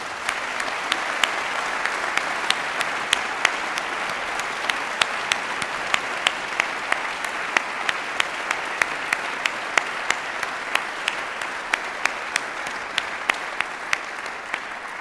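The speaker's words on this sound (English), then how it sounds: "I think that deserves a huge round of applause." Sustained applause from a graduation ceremony crowd, a steady wash of clapping with some sharper individual claps standing out, continuing throughout without voices.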